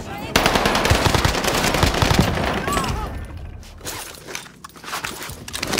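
Rapid, loud machine-gun bursts from a video game run continuously for several seconds, with dense crackling fire that thins out toward the end and a voice speaking underneath.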